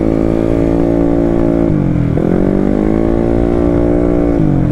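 A Yamaha Mio scooter built up to 200cc and 25 HP roars at full throttle during a test ride, its engine note loud and close with a steady high whine and a few quick dips and rises in pitch.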